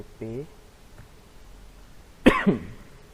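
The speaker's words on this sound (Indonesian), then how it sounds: "saya lagi batuk, lagi habis flu, jadi ini agak batuk" A single sharp cough from a man recovering from flu, loud and close, following a brief earlier voiced throat sound, with quiet room tone in between.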